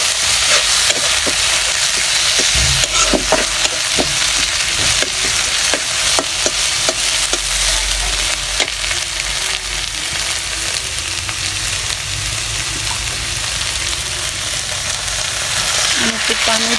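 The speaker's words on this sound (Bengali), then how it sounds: "আমার পেঁয়াজটা ভাজা হয়ে গেছে। এর মধ্যে আমি দিয়ে দিব রসুন বাটা" Fried onion with a little garlic paste sizzling loudly in a pan, steady hissing fry with frequent clicking stirs and scrapes of a spoon, close and continuous, no talk.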